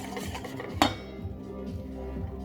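A pot of melted, smooth chocolate ganache lifted off the stove, marked by one sharp metallic clank of the pan near the start of the second second, then faint scraping and quiet room tone.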